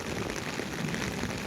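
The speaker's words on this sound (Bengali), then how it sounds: "খুবই ভারী বৃষ্টি হচ্ছে" Heavy rain falls in Sylhet, making a dense, even hiss of water pouring down without pause. The sound is moderately quiet and steady throughout, with no voices.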